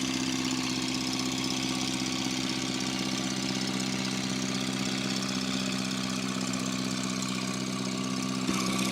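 A tractor engine runs steadily in first gear at a barnyard tractor pull at the Georgetown Fair, a loud continuous low drone with a constant hum and no talk over it.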